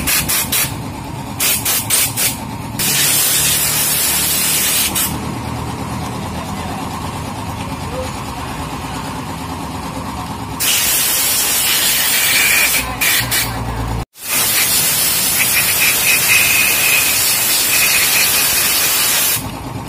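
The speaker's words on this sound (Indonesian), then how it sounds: "Ini mau diambil bensin, disedot bensin untuk membersihkan ruang mesin ini" Bursts of pressurized petrol spray hiss loudly while a Yamaha Mio scooter's engine compartment is cleaned, with long continuous sprays broken by short pauses and a brief silent gap.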